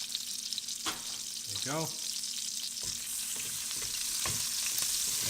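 Longanisa sausages fry in oil in a pan, a steady bright sizzle with a few clinks and scrapes of a utensil, while a voice speaks briefly.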